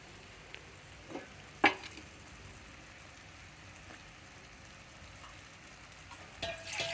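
Dal khichdi simmering in a pan: a quiet, steady bubbling and low sizzle with a few sharper clinks and pops scattered across it, and no voices.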